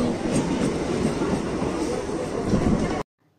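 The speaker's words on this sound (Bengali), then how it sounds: "তারপর ট্রেন এলো।" A passenger train, loud and close, a continuous rumbling clatter of wheels and carriages that holds steady for about three seconds, then cuts off abruptly to near silence.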